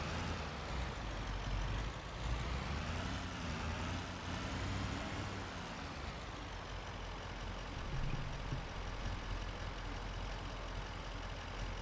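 Timber truck engine in Farming Simulator 25, a continuous low diesel drone that rises and falls in pitch as the truck drives, steady and moderately loud with no talk over it.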